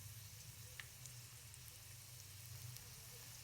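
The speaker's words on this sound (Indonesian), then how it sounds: "Ini kita goreng yaitu sampai matang" Sausage wonton satay deep-fries in hot oil with a steady, soft crackling sizzle and scattered small pops, constant and fairly quiet, with no voices.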